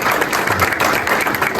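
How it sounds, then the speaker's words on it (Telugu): Dense applause from an audience at a Christmas celebration, a continuous loud patter of many hands clapping with a faint crowd murmur underneath. "ఒకసారి చప్పట్లు కొడదాం."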